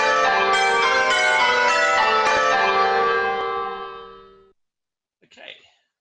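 Church bells ring the Tittums change in a full, continuous peal of overlapping strokes that gradually fade away, followed by a brief faint noise after silence.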